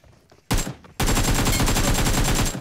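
Rapid automatic gunfire in the battle-royale game BGMI, with a short burst followed by a sustained, loud, rhythmic stream of close shots with no talk over it.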